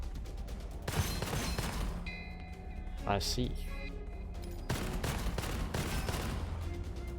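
Gunfire in the shooter game Gunfire Reborn: bursts of rapid shots and impacts with game effects, under a player's occasional speech.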